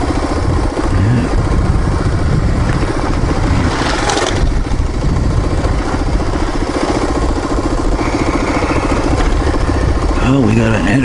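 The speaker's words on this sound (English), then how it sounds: "Big heavy bike. Honda African Twin." A Honda Africa Twin adventure motorcycle engine drones steadily on a dirt truck trail, loud and close with a continuous mid-pitched hum and brief swells of revving, with people talking over it at times.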